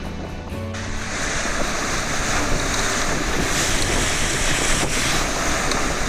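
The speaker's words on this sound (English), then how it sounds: "already the winds really kicked in, 20 knots" Strong wind buffets a sailboat crossing Bass Strait in winter, with a big ocean swell rushing and surging past the hull; a loud, steady roar of wind and water fills the whole stretch with no talk.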